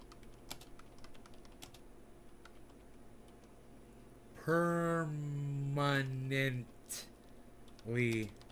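Quick, light clicks of computer keyboard typing run through the first half, fairly faint, before a person starts talking over a low background hum.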